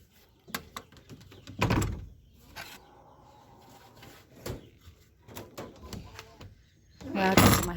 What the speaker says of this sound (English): this right here is to raise and lower my door